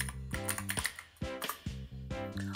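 Brisk typing on a computer keyboard, a quick run of clicky keystrokes close by with short pauses, alone without talk.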